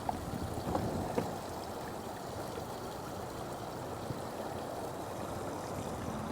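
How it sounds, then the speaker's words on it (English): A small waterfall on a hiking trail at Elder Lake in Kilgore, Texas, running with a steady, soft, continuous burble and wash of water, fairly faint and unbroken, with no talk. "Right here we got a little bit of water running."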